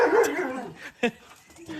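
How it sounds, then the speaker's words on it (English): A lurcher dog lets out a couple of deep barks, one early and one sharp bark about a second in, heard fairly close amid indoor room noise with faint voices. "Sounds a lot bigger than a lurcher."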